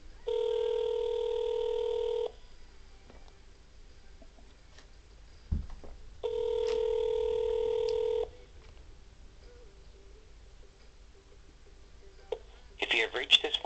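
An outgoing telephone call gives two long ringback tones separated by a quiet gap over faint background noise. A burst of brief, garbled line sounds follows at the end.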